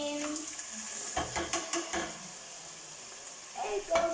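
Peeled tomatoes sizzle in a hot pan on a stove while a tin fish lasagne sauce is cooked, with a steady frying hiss and a few spoon scrapes and knocks against the pan.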